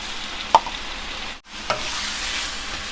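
Chicken meat goes into a hot pan over browned onions for a chicken curry. A steady close sizzle follows, with a sharp click early on and a brief dip partway through.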